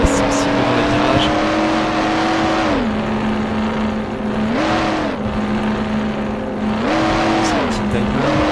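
A car in Mafia: The City of Lost Heaven drives steadily with a constant engine drone, its pitch dipping and rising as it slows into corners and accelerates out, with occasional tire noise.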